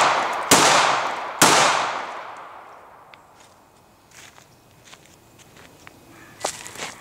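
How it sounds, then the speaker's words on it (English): Two sharp, loud .40 S&W pistol shots ring out close together near the start, 180gr Magtech bonded rounds fired into ballistic gel outdoors, each with a long decaying echo, followed by quieter clicks and light handling sounds. "3 shots, I wouldn't call it rapid fire, but pretty quick fire."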